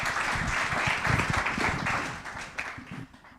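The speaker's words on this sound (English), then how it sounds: "So please give them a round of applause." Audience applause for a media panel at a conference, a dense, steady burst of many hands clapping that stays loud for about three seconds and then thins out toward the end.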